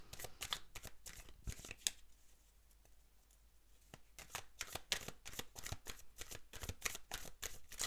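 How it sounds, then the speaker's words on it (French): Tarot cards are shuffled close by, a busy rapid riffle of papery snaps that pauses briefly in the middle before the crisp, rhythmic shuffling resumes and carries on steadily. "on va remélanger les cartes maintenant pour voir vers quoi"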